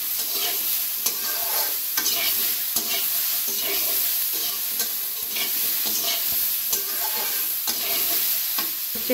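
Pointed gourd (potol) frying with salt in a pan, stirred continuously: a steady close sizzle with repeated scraping strokes of the spatula, with no talk.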